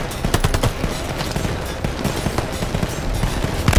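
Sustained machine gun fire in the World War II shooter Danger Close, dense rapid bursts with booming low-end impacts filling the whole stretch, loud and continuous with a battlefield din beneath.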